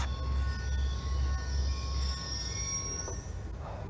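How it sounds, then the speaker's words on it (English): A train rolls past in Call of Duty Black Ops 2, its wheels squealing steadily against the rails with a sustained metallic whine that rises toward the end, heard alone and close. "Ain't getting anything else with that train in the way."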